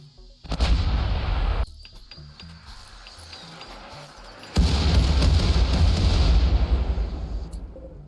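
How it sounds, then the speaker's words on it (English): Artillery cannons fire shells in the video game RimWorld as a pirate siege unfolds: two heavy, loud bursts of booming gunfire, each followed by sustained rumbling and mechanical clatter. "the pirates decided to assault the walls rather than face the symphony of cannons hurling shells at their position"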